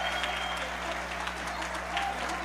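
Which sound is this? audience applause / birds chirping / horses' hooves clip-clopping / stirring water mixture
audience applause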